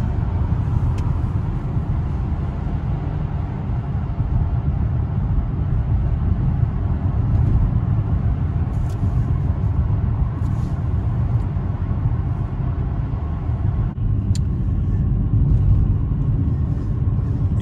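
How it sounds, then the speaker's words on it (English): A 2008 Chevy Impala cruising at nearly 60 mph, giving a steady low road rumble and engine drone heard from inside the cabin, smooth and continuous throughout. "So I'm up to almost 60 miles per hour, and it still drives really,"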